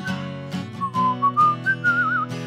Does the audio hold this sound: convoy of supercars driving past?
no